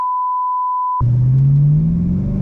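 A BMW E92 M3 driving: after a steady electronic beep tone in the first second, a close engine drone takes over, its pitch climbing slowly as the car pulls smoothly, with no talking.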